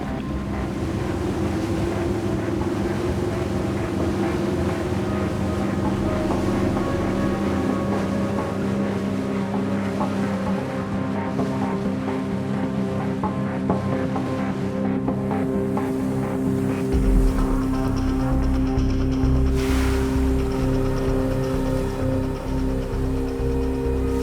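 A small boat motor drones steadily throughout, with wind buffeting the microphone and water splashing, a louder surge near the end.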